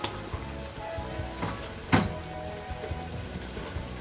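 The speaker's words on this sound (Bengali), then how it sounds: "মশলাটা কষাচ্ছি।" Spices with turmeric and chili powder frying in a pan, a steady crackling sizzle with a few louder spits and stirring scrapes, close and alone.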